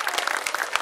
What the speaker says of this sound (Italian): a cui va un grande applauso